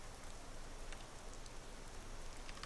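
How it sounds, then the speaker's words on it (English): Soft, steady rain patters without a break as ambient weather inside a video game, faint and continuous with no voices over it. "Reopen the game when it's not raining so that we don't have that rain in the background all episode."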